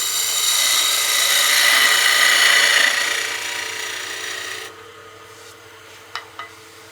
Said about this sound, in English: We'll do a peel cut here just to clean up the end just a little bit